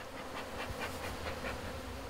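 Agitated Normandy black honeybees at a conservatory hive, a dense, steady buzzing swarm close by with pulsing swells throughout, no voices.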